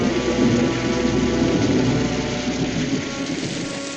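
A heavy storm pours rain with a deep thunder rumble underneath, loud and continuous, the low rolling easing slightly toward the end.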